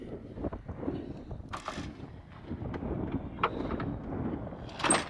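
Wind and rain buffet a camp tent on a motorcycle trip, giving a rumbling, gusty roar with scattered sharp flaps and patters, steady and moderately loud throughout.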